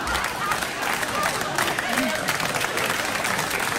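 Studio audience applause at a late-night talk show, a steady dense wash of clapping and crowd noise lasting the whole stretch at moderate level.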